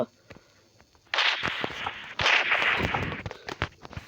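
A toy pistol firing in a Roblox zombie apocalypse game: sharp cracking shots in two bursts after a quiet start, with someone talking over them.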